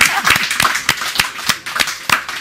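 A small group claps by hand in short, sharp, uneven strikes over about two seconds during a Greek talk show, close and fairly loud with no speech.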